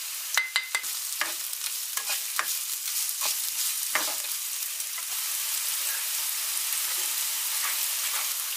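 Onions for a vegan bolognese hit a hot pan with a sharp sizzle, punctuated at first by several stirring scrapes, then settling into a steady, close frying hiss.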